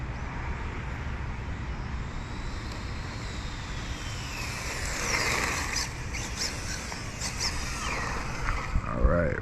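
HPI RS4 radio-controlled car tearing around at speed, a steady buzzing motor whine with rising and falling pitch sweeps as it accelerates and turns, fairly close and continuous.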